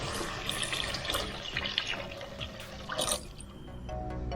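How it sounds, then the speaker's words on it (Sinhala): Chicken stock pours and splashes steadily into a pot, a continuous watery trickle with small drips, fairly quiet and close. "ඊට පස්සේ අපි ඔකට chicken stock වතුර ටිකක් දා ගන්නවා"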